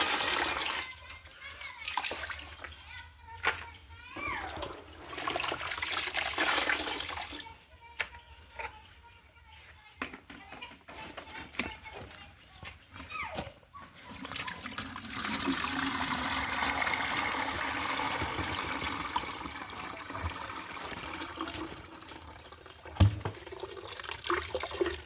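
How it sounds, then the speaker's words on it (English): Squeezed herbal juice mixed with water is poured through a sieve into bird drinkers, giving bursts of splashing and trickling liquid broken by pauses, with people talking nearby. "We are about to sieve it into the drinkers."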